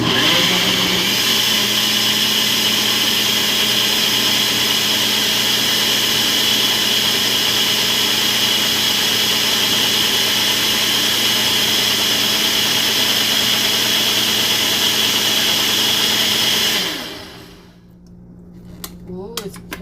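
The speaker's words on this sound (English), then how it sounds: "let's move to the blender" A blender whirs loudly and steadily for about seventeen seconds while making fruit juice in a Hawaiian kitchen, then cuts out abruptly, leaving a quiet room.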